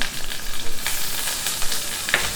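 Meat sizzling and crackling in a hot pot, a steady hiss with a few sharper pops, no voices.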